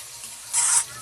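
Vegetables and tomato sautéing in a pan give a short, bright burst of sizzling as they are stirred, rising suddenly and fading within a fraction of a second against a quiet background.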